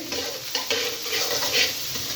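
Boiled rice stirred and fried in a hot pan over high flame for Malaysian nasi goreng, a steady close sizzle with scraping spatula strokes and no talk.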